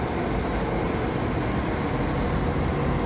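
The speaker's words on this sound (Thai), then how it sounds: "รถเข้ามาที่ชานชาลา2" A steady, loud rumbling roar of a train pulling into a station platform at night, continuous broadband noise without pauses.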